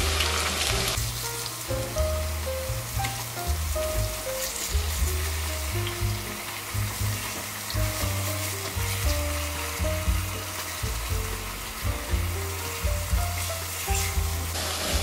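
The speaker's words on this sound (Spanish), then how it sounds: "en el aceite de oliva vamos a poner los ajos picados, que no se quemen." Minced garlic and fillets fry on high heat in olive oil, a dense continuous sizzle and crackle with shifting bubbling tones, close and steady throughout with no talk.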